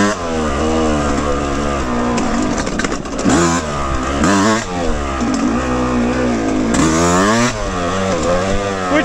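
A dirt bike engine on an OHV trail revs up and down repeatedly, loud and close, with a rising and falling throttle whine throughout, the bike's carburetor bogging on throttle roll-on.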